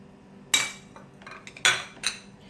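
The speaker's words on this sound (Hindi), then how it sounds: "इन मसालों को ऐड करके मैं अच्छे से मिक्स कर रही हूँ।" A spoon or utensil clinks against a bowl while chicken wings are mixed with yogurt, vinegar and dry spices: a few sharp, close metallic taps at irregular intervals, with soft scraping between them.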